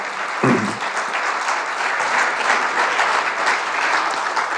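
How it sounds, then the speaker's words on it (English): Audience applause for a speaker at an air traffic controllers' summit, a dense, steady round of clapping filling the room throughout. "Let's give him another round of applause."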